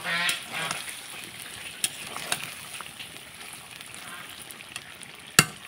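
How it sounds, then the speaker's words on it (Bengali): Duck meat and grated coconut sizzle and fry in a pan while being stirred, a soft steady crackle with occasional scrapes and clinks of the spoon against the pan, fairly quiet and close. "এই দেখুন আমি নারকেল আর মাংস একসাথে কষিয়ে নিচ্ছি, ভালো করে কষিয়ে নেব।"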